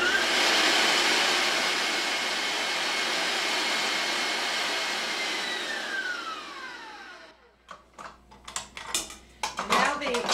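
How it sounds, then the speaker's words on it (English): An electric mixer whips eight egg yolks for key lime pie, a loud steady whirring drone that winds down and stops, followed by clinks of utensils against the bowl and someone talking. "you take your 8 egg yolks and you whip them until they're really thick, almost like mayonnaise"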